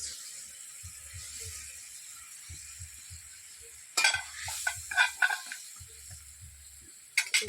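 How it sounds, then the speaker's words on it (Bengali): Pieces of katla fish going into a boiling yogurt gravy in a pan: a quiet low bubbling background, then a cluster of close wet splashes and sizzles, and another brief burst near the end, with no voices. "এবার ঝোলটা ফুটে গেছে, এর মধ্যে দিয়ে দিলাম ওই কাতলা মাছ"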